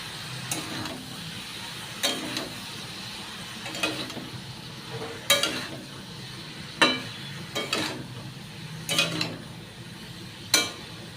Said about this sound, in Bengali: এবার লবণ আর হলুদটা মিশিয়ে নিচ্ছি